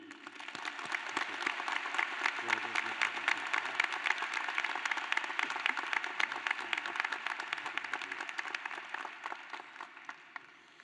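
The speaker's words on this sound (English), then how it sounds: "Please join me in a round of applause for President Mulready." An audience at a graduate commencement ceremony claps in a sustained, dense round of applause that swells, holds for several seconds and then tapers off.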